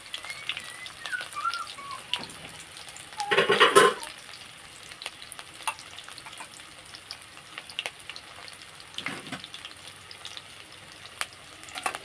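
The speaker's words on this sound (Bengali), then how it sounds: "ঘিটা দেওয়ার পরেতে এবার আমি দিয়ে দিচ্ছি পেঁয়াজ কুচি, কাঁচা লঙ্কা কুচি," Chopped onion and green chili hit hot ghee in a pan, giving a short loud sizzling burst followed by a faint, steady crackle of frying, with no talking.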